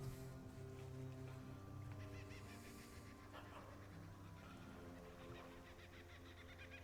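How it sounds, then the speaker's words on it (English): A dog pants quickly in the fishing game Dredge, a soft rhythmic breathy huffing over continuous low ambient game music and water sounds, fairly faint and with no talk. "I heard a dog."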